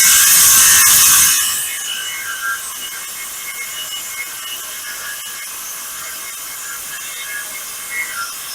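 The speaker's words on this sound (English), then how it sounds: "It's 1/8 inch thick aluminum, and it's got a carbide blade on it, so it should cut through it." Power saw with a carbide blade cutting through 1/8-inch-thick aluminum for a jon boat console: a loud, bright screeching whine that starts with a harsh burst, then settles into a steady, continuous grinding cut, close by and alone.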